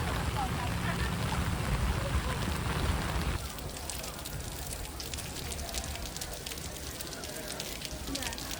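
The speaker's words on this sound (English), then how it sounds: "why is it raining?" Steady heavy rain falls outdoors at a viewpoint in Kuching, a dense continuous hiss that softens partway through as if shelter was reached, with quiet voices in the background.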